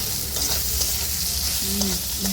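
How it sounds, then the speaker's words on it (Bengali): Soybean chunks fry in a pan with a dense, continuous close sizzle and a few faint stirring scrapes, no talking. "ভালো করে সোয়াবিনগুলো ভেজে নিয়ে দিয়ে দেবো আলু।"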